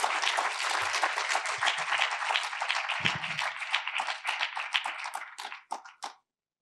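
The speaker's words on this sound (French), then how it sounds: "je vous propose qu'on vous applaudisse encore une fois" Audience at an awards ceremony breaks into applause, with a full, steady roar of many clapping hands that thins into scattered individual claps before stopping.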